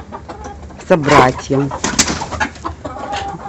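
An Orpington rooster among speckled hens calls out in a short harmonic burst, followed by fainter clucks and rustling, while a person talks nearby.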